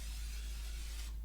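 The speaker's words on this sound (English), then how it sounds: "I take a little extra olive oil spray, and I will spray down the inside of my basket" Olive oil spray hisses steadily into an air fryer basket, a continuous close spray lasting about a second before it cuts off, over a low electrical hum.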